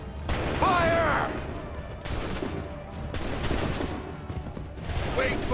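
Musket volleys crack out in an Assassin's Creed 3 battle, heavy overlapping gunfire bursts with a continuous rumble beneath and shouted commands in between.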